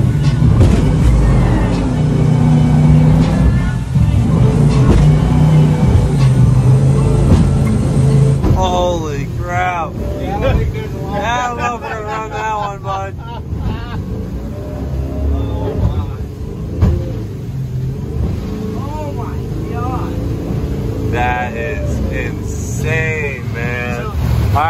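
Jet boat engine roaring as the boat powers up aggressive white water rapids in an Idaho canyon, a loud steady drone with rushing water, shifting pitch, and people talking and shouting over it throughout.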